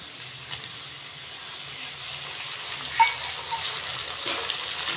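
Tomato pieces tossed into a pan of frying potatoes for poha, a soft continuous sizzle with faint stirring scrapes and a few light clatters.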